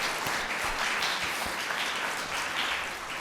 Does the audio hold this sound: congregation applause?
yes